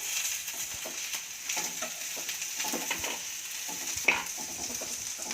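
Ginger and garlic fry steadily in a pan for a vegetable rice dish, a continuous close sizzle broken by small stirring scrapes and a single sharper clink near the end.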